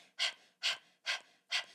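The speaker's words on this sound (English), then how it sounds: "so that's just PTK or just panting" Four quick, sharp panting breaths of a breathing exercise, evenly spaced about half a second apart, close and clear with silence between each exhale.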